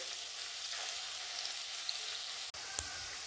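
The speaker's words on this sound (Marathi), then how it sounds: "आता त्यामध्ये आपण हा बारीक चॉप केलेला लसूण आहे ना मस्त असा खमंग फ्राय करून घ्यायचा आहे कडक होईपर्यंत" Finely chopped garlic fries in hot oil in which mustard seeds have already crackled, giving a steady close hiss with a couple of small pops and a brief tap, and no voices.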